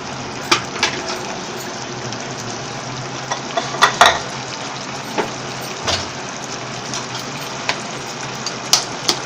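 Beaten eggs frying in a pan with potato masala, stirred through with soft sizzling and scattered scrapes and clicks of a utensil, a louder clatter near the middle.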